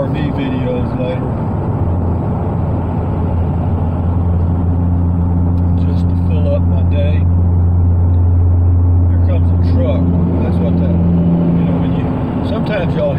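A steady low rumble of road noise fills a vehicle moving through central Texas, with engine hum underneath and occasional faint rattles.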